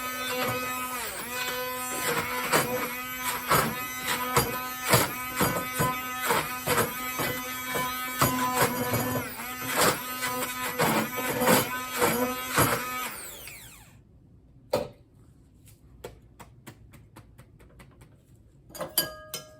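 An electric mixer blends fermented hot peppers into a chunky sauce with seeds, a loud whirring, rattling drone with pulsing bursts that cuts off partway, followed by a few scattered clatters.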